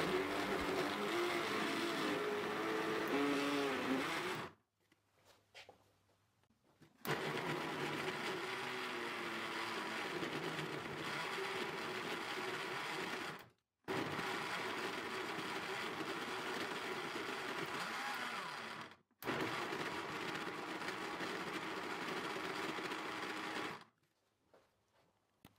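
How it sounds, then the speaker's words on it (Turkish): A blender purees fruit with sugar and water in loud, steady whirring runs of several seconds each, broken by three short pauses. "Kapağını kapatarak püre haline gelene kadar çekiyorum."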